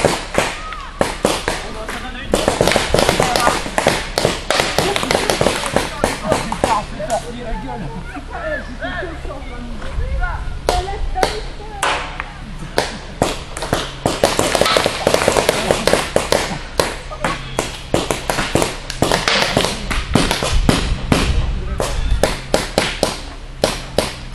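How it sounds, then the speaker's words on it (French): Rapid popping shots from paintball guns during an outdoor paintball game, sharp cracks firing in dense bursts and scattered volleys throughout, with people talking and shouting underneath. "c'est le pistolet"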